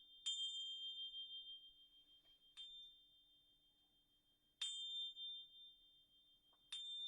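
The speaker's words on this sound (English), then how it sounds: "So we're just going to use these chimes." Metal chimes rung four times in a quiet room, each strike a bright, ringing tone that sustains and slowly fades before the next, with long pauses between strokes.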